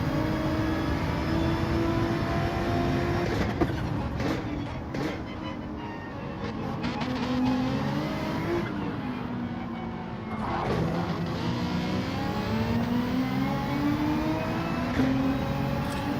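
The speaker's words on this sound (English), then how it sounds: "Ferrari's so good on the acceleration." A Ferrari Gr.3 race car in Gran Turismo 7 on Trial Mountain, its engine whining steadily and rising and falling in pitch through gear changes as it accelerates, loud and continuous, with faint talk in the background.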